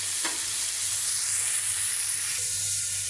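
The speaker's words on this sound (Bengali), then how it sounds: "লবণ, হলুদ, মরিচ দিয়ে মেখে এখন ভেজে নিচ্ছি।" Four koi fish coated in salt, turmeric and chili sizzle steadily in hot oil, a close, continuous frying hiss with no voices.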